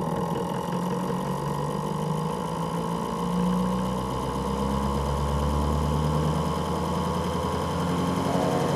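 A small homemade motor built from three stacked neodymium magnets runs steadily at close range, giving a continuous whirring hum with a slight unbalanced wobble and no voices over it.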